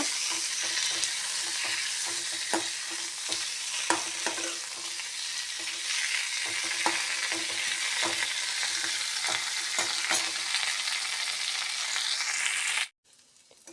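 About half a spoon of cumin and five or six black peppercorns dry-roast in a pan, crackling softly and steadily, with frequent scraping stirs close by. The sound ends abruptly.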